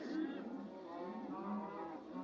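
A baby cow in the Nether of the Minecraft video game, giving a drawn-out, wavering moo that repeats in a second longer call, clear and close with nothing else heard.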